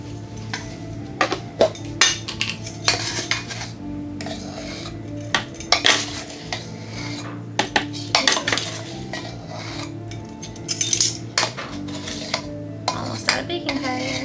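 A metal measuring spoon clinks and scrapes against a container and bowl while scooping baking powder for homemade biscuits, a continuous run of close, sharp taps and clatters with brief talk underneath.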